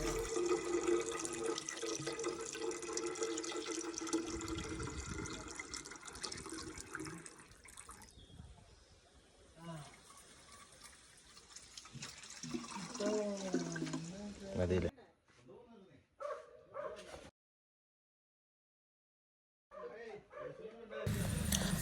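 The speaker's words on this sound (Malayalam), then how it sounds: "അപ്പോൾ നമ്മൾ കുറച്ച് വെള്ളം കൂടെ ഒഴിച്ചു" Water is poured into the radiator of a Mahindra Major 4x4 jeep, pouring and splashing steadily for several seconds, then trickling off into quieter clinks and short gaps of near silence.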